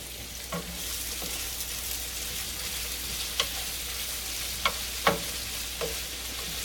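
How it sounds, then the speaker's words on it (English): Beans frying and being stirred in a pan over medium heat, a steady soft sizzle with a few light scraping clinks of the spoon against the pan, close and alone. "Stir them beans around."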